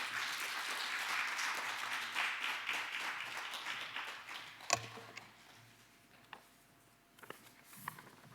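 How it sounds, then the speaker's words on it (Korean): A church congregation at a Wednesday service claps to welcome a speaker, a soft, fairly distant patter of applause that tapers off, followed by a few scattered knocks and handling sounds in a quiet room. "박수로 우리 환영하도록 하겠습니다."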